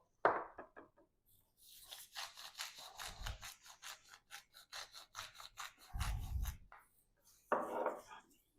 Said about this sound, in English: Cut them into thin strips.